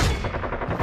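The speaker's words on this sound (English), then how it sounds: "I hear gunshot." A single loud, close burst of gunfire fills a short, dense moment and then cuts off.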